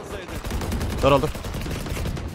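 Gunfire in the video game Valorant, a quick burst of sharp shots cutting through continuous in-game noise while a player speaks briefly over it.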